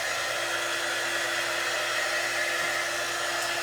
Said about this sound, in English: I'm looking for my dryer, y'all.